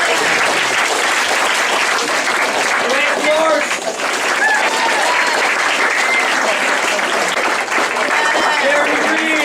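Banquet audience at a cross-country team's year-end awards applauds loudly and steadily, dense clapping filling the room, while a voice briefly reads out a name over it.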